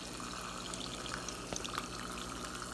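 Water pours out of a wine bottle in a steady broadband rush, gulping in and out as air enters the neck, at moderate level with no talk.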